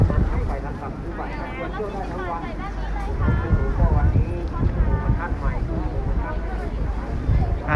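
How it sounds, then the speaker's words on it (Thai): Strong wind buffets the microphone at the Khao Kho wind turbine field beside a lavender field, a steady rushing roar with gusts swelling midway, while a voice talks throughout. "เสียงลมดังแรงมากนะ"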